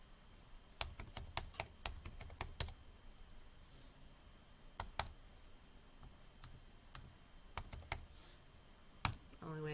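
Keys click on a computer keyboard in quick clusters of taps separated by pauses, close and fairly quiet, with a faint voice briefly at the very end.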